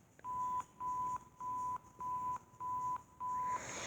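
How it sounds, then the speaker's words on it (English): A TV-style censor beep tone repeats as about seven short, evenly spaced electronic bleeps roughly half a second apart, clean and fairly faint, with no voices around it. "This is just a cuss word beep sound that you hear on TV when they cuss."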